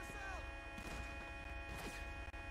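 Gunfire in GTA V: a few sharp shots burst out amid continuous game music and sound effects, and the noise level stays busy throughout.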